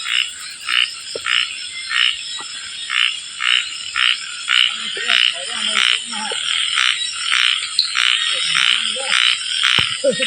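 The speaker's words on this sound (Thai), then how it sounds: "กำลังจะบอกนี่กบ" Frogs croak at night in a forest, a loud, close, regular pulsing call repeating about twice a second over a constant high insect drone, with faint rustling and brief quiet voices in the background.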